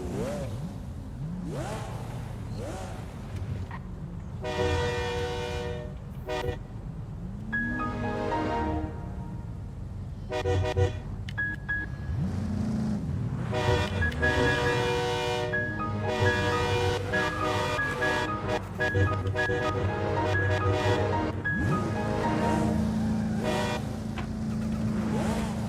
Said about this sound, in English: Oh, it's a horn festival.